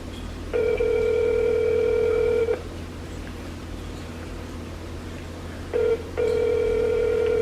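A telephone ringback tone sounds during an outgoing call, a steady electronic purr lasting about two seconds, then a pause and a short blip before the next long ring begins.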